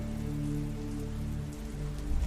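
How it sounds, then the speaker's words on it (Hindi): Steady rain falls at night, a dense even patter of drops on surfaces continuing throughout, close and fairly loud, with a low constant hum beneath and no talking. "इस रात के समय यहाँ खड़े खड़े बारिश में क्यों भीग रहे हो?"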